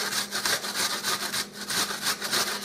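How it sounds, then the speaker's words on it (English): An onion is rubbed back and forth across a box grater in quick rhythmic strokes, each pass a close, bright rasping scrape, about five or six strokes in a row with no talking. "I'm going to grate about a third of this onion."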